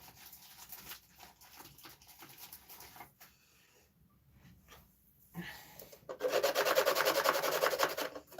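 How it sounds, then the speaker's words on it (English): Sanding sticks rub back and forth over a part on a radio-controlled model, with a soft scraping start and a loud, steady rasping run near the end, close up. "Let's sand that down a little bit."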